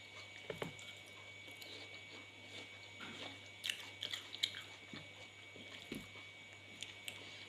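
Someone bites into and chews a crisp white-fleshed apple at breakfast, quiet crunches and moist chewing close to the ear, with scattered sharper snaps from bites.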